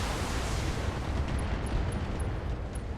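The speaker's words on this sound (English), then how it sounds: "ammunition explosion" A mech's ammunition exploding in the BattleTech video game, a dense, loud, sustained roar of blast noise filling the whole stretch, with faint high ticks scattered through it.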